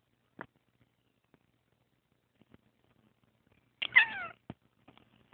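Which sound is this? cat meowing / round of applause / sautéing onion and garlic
cat meowing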